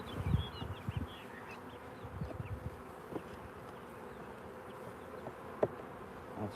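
Honey bees hum in a dense, steady buzz from an open nuc box during a hive inspection, a close and continuous drone with occasional louder passes and light handling knocks.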